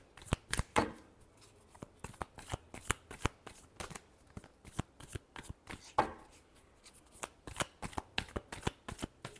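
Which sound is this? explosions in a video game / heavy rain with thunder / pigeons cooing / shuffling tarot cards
shuffling tarot cards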